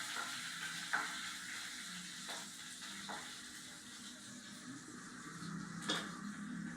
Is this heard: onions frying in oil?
yes